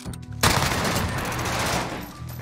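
Rapid Sykov pistol fire in a shooter game erupts abruptly into a dense, loud stream of shots lasting a couple of seconds before easing off.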